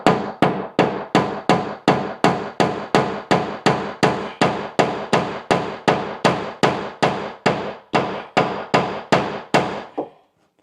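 Hammer blows while installing a shower base, about twenty-two sharp, evenly spaced strikes in a steady rhythm, loud and close, each ringing off quickly before the next.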